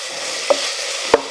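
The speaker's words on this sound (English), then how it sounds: "Let's stir that bacon around. Can you hear it sizzling?" Bacon sizzles steadily in a pot with a soft continuous crackle, broken by two brief scraping knocks as it is stirred.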